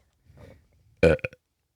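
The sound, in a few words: burping into microphone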